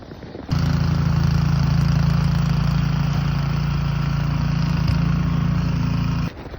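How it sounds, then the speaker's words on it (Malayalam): A snow blower clearing a lot after a snowfall, its engine starting abruptly and then roaring at a loud, steady drone close by for about six seconds before cutting off. "സ്നോ മൊത്തം അടിച്ചു കളയാൻ പോവാം."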